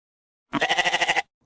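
A goat gives one close, wavering bleat that lasts just under a second, with a quick pulsing tremble through it, heard alone against silence.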